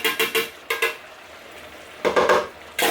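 A spoon stirs a big batch of sauce with pepper and Parmesan, making a run of close, rhythmic scrapes and knocks against the pot, then a pause and another burst of stirring.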